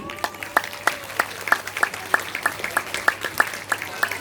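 An audience applauds volunteers at an event in a hall, a steady run of claps that sounds thin, as if only a few hands are clapping, heard up close with no talk.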